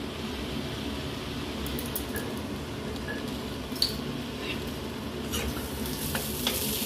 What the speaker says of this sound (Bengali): ভালো করে চাউলটাকে মিশিয়ে দিলাম